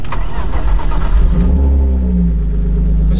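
Drift car on the Top Gear circuit firing up and revving, a loud engine burst settling into a rising, droning rev with a deep rumble, close and alone.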